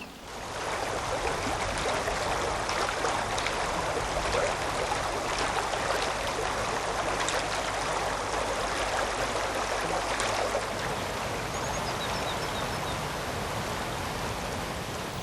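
River water flowing in its upper reaches, a loud, continuous rushing and splashing that eases slightly toward the end.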